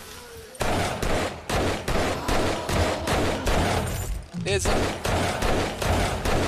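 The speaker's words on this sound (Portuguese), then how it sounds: "Eu tô ouvindo o Mini explodindo pra todo lado, velho" Repeated heavy blasts and gunfire-like bursts crack and rumble in the zombie survival game 7 Days to Die, loud and close in quick succession with a brief lull midway; someone briefly speaks over them.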